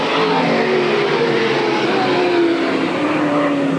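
Race cars roar continuously around the oval at Eugene Speedway on the final lap toward the checkered flag, a loud steady engine drone with pitch sweeps as cars pass, no voices over it.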